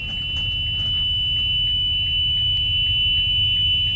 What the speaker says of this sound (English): You can hear the buzzer, and you will walk to the front to see the light